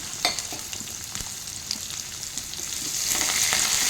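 Onion, dried chillies and curry leaves fry in hot oil for a broad beans poriyal, giving a close, steady sizzle with light crackles and stirring scrapes that grows slightly louder toward the end.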